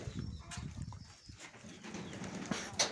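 Low, soft cooing from Mykolaiv pigeons in a loft comes in short murmuring bursts, faint and close, with light rustling and a brief high chirp near the end.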